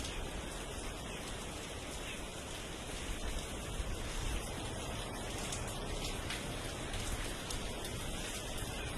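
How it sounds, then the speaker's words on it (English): Steady rain falls as a dense, even hiss of droplets, loud and unbroken for the whole stretch. "We see the rain fall, all the droplets of water coming down."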